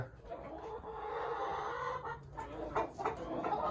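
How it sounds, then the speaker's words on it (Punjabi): Hens cluck steadily throughout, several birds overlapping in a continuous, moderately loud barnyard chatter with no talking. "ਇੱਧਰ ਮੁਰਗੀਆਂ ਵੀ ਘੁੰਮੀ ਜਾਂਦੀਆਂ ਆ"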